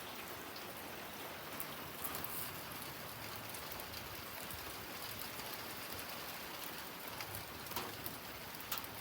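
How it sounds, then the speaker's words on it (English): Light, splashy rain falls steadily outdoors, a dense continuous patter of drops holding an even level throughout with no voices. "The rain is here. The rain has arrived."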